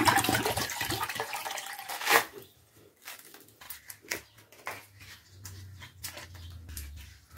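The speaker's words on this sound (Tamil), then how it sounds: "இதே மாதிரி எல்லாத்தையும் இளநியெல்லாம் வெட்டி தண்ணி எடுத்துக்கலாம்" Tender coconut water splashes and pours from cut coconuts for a couple of seconds, followed by sporadic drips, taps and small knocks in a quiet room.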